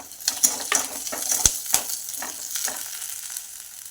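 Curry leaves hit onions frying in a pan, crackling and sizzling over quiet stirring, with sharp spatters and utensil scrapes against the pan while making tomato poha.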